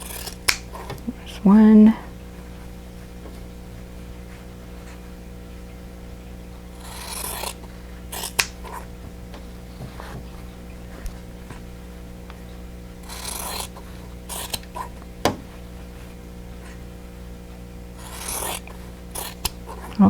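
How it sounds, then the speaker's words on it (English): Scissors trim a fabric triangle for a quilt block, making soft, scattered snips and rasping rubs at irregular intervals over a low room hum, with a brief spoken remark. "I'm going to trim off this side of the triangle, leaving a 1/4 inch seam allowance"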